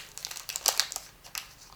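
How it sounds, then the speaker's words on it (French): Pokémon card booster pack wrapper handled while being opened with scissors, a brief burst of close crinkling and rustling foil in irregular bursts, no speech. "Je vais garder les ciseaux parce qu'en fait, sinon je vais mettre 1h30 à vous ouvrir le booster"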